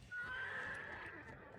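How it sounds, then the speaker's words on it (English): Undead zombie horse in the game Dead by Daylight lets out a single short, quiet whinny with a faint hoof clop beneath it. "There's just a zombie horse."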